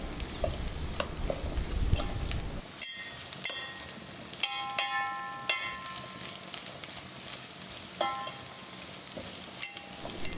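Clam masala with ground fennel is sautéed in a pan: a quiet, steady sizzle broken by scattered scrapes and taps as a spoon turns the mixture.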